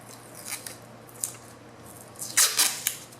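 Masking tape being pulled and pressed onto a C5 Corvette Z06 body, with a few brief sticky rips and crinkles, the loudest cluster near the end, over a quiet garage background.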